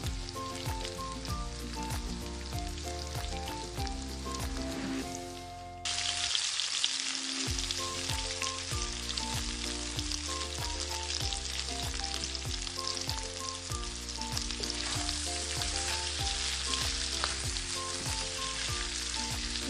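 Chicken with garlic ginger paste frying over medium heat in a pot, giving a steady close sizzle with stirring clatter, briefly quieter for a moment before the sizzling resumes at full strength.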